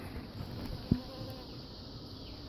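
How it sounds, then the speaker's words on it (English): Honey bees buzz steadily around a tall hive during an inspection, a faint, continuous drone with one brief close thump partway through. "we inspecting this hive right here now, this tall hive, the initial one, not the new one"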